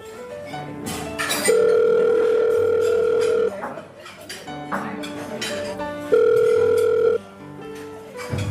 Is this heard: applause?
no